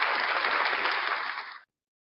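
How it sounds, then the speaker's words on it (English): Applause for Hank's Corner during a live breakfast show: steady, dense clapping that holds evenly for about a second and a half, then stops abruptly, with no voices over it. "Another round of applause"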